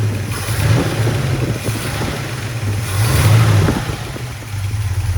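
A 454 big-block Chevy V8 with Edelbrock aluminum intake and long-tube headers in a 1971 Chevrolet Chevelle rumbles at close range, swelling in a few revs above a deep, throaty idle.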